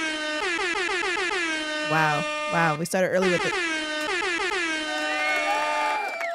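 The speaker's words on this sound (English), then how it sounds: "The air horn?" Loud, repeated air horn blasts in short rhythmic bursts, with people talking and reacting over the top.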